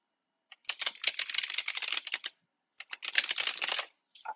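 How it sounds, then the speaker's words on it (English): A deck of reading cards shuffled in two quick bursts, a crisp, rapid riffling flutter close to the microphone with a short pause between bursts and a final brief flick. "I'm shuffling up his cards now."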